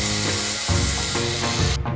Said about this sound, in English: we're actually only grinding off one side of the blast gate